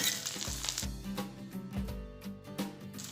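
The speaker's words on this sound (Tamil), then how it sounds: "இதை நல்லா வதக்கிக்கலாம்." Onion, garlic and dried chili sautéing in a pan, a soft sizzle under repeated clanks and scrapes of stirring, close but fairly quiet.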